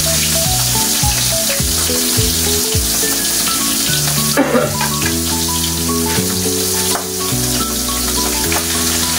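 Steady loud sizzling of food frying in hot oil, with continuous crackle throughout and music playing underneath.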